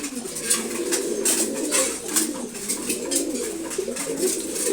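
A flock of pigeons at their morning feed keeps up a dense, continuous cooing chorus nearby, with light tapping and pecking sounds flickering through it.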